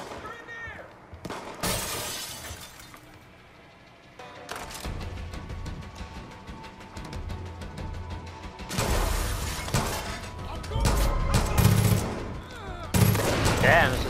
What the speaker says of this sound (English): Damn, this is a serious machine gun.